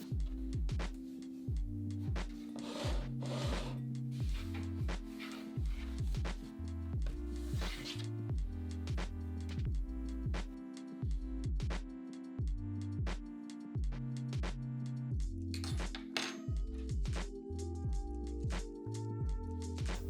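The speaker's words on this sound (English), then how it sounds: "You're gonna whisk this all together until smooth." A whisk stirs a soy sauce and spice marinade with nutritional yeast, garlic powder, onion powder and smoked paprika, making faint rhythmic tapping and swishing strokes against the bowl beneath quiet background music.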